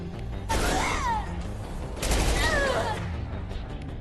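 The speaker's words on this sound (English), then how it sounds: "All fire on the unshielded hostiles." Sci-fi gunfire in the video game Mass Effect 2, two bursts of rapid shots with whooshing sweeps about a second and a half apart, over a busy game background.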